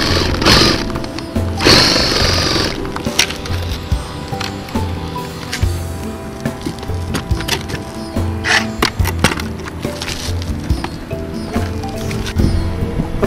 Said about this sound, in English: Just going to give a pilot hole for our blade with the Sawzall.